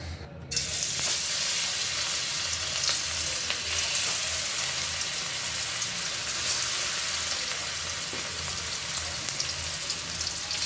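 Katla fish pieces fry in a hot pan, a dense, steady sizzle and crackle that starts abruptly and holds loud and close throughout with no talking.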